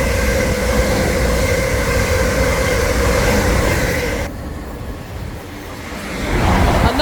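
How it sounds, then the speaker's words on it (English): Class 444 electric passenger train passing close by at a British station, a loud sustained rushing roar with a whining tonal hum that drops away abruptly, then swells again toward the end. "there's a class 444, same train as this, but a longer distant version"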